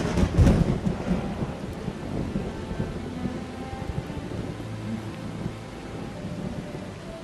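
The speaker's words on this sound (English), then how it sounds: "The first rain for 8 months." Rain falls steadily on open ground during the first storm in eight months, with a loud rumble of thunder near the start that fades into continuous patter.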